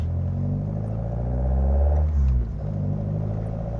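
A Kadett GS engine with a Solex C40 ADDHE carburetor running on ethanol idles close by, a steady low throbbing rumble with a brief dip and wobble in speed partway through, no talk.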